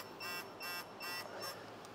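A digital torque wrench tightening timing components on a BMW M62TU V8 gives four short, evenly spaced high electronic beeps, faint and alone.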